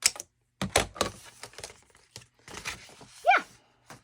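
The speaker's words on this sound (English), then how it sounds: "Then I'm going to take my scissors and at the fold, I'm just going to cut it at an angle." Scissors cut through folded paper at an angle while a folio is being made. A handful of crisp, close snips and rustles come in short irregular bursts, separated by brief quiet gaps.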